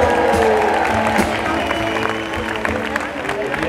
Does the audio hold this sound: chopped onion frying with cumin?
no